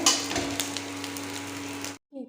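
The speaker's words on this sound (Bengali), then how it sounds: "এখানে মা বসিয়ে গেছে ছোটো ছোটো মাছ, এগুলোকে মুচমুচে করে ভাজা হবে।" Small fish fry crisp in a pan of hot oil, giving a steady, close sizzle with a few clinks and stirring sounds before it cuts off abruptly.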